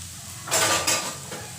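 A spatula scrapes and stirs spinach and egg in a hot pan, a short close swish with a faint sizzle beneath, two quick strokes.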